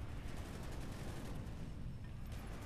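Dense, continuous bursts of rapid gunfire, mortar fire and explosions roar steadily throughout Call of Duty: Black Ops, a loud, noisy battle din with no pauses.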